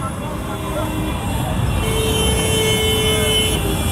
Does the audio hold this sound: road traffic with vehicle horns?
yes